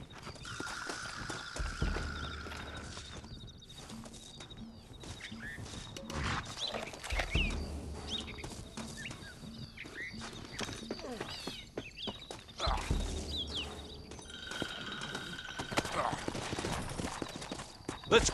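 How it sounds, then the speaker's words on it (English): Rhythmic hoofbeats of horses clatter at a brisk pace in a Red Dead Redemption game scene, rising and falling in bursts, with voices speaking at times over them. "Looks like Carlos left us some horses."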